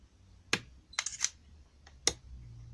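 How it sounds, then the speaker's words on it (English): Sony A5000 camera shutter fired by a remote control switch: a sharp click, then a quick double mechanical clack and another crisp click, near and distinct over quiet hum. "So up should be take a picture."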